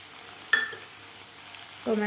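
Chopped tomatoes sauté with onions for paneer bhurji, a quiet sizzle in the pan broken by a sharp clink of a utensil early on and a louder scrape of stirring at the end, with no talking.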